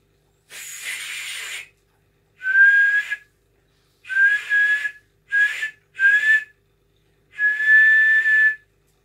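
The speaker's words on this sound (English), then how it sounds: "It's a whistle." A small metal whistle found while mudlarking, blown in six separate bursts of varying length, shrill and close, with breathy hiss around each tone and no talking.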